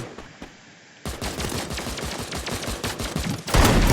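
Rapid video-game gunfire during a tournament match, a steady stream of sharp shots with a sniper in play, loud and continuous after a brief quiet start, ending in a dense burst.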